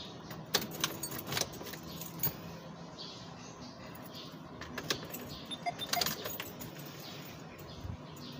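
Keys jangle and clink in irregular bursts near a car being worked on in a repair setting, with metallic rattles over a low background hum and no talk.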